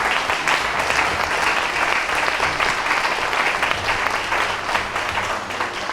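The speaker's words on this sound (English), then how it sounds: "Let's give Jordan Hunt a huge hand for being one of the people who put this on" Audience applause, steady and dense clapping from a large crowd that keeps up for the whole stretch.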